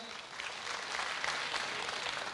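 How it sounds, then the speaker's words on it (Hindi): Steady, dense clapping fills the room from a live comedy show audience, a continuous crowd applause with no pauses. "अहमद भाई के लिए जोरदार तालियां"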